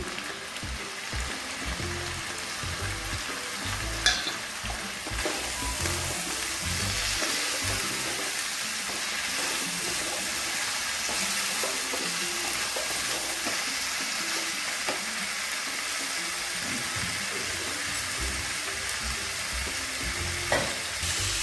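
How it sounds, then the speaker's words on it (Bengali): Egg and cauliflower with salt, turmeric, cumin powder and chilli powder fry in a pan while being stirred, giving a steady, close sizzle with scraping for the whole stretch and no talking. "ভালো করে কিছুক্ষণ কষিয়ে নেব।"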